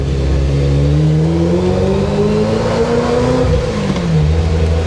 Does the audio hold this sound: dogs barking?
no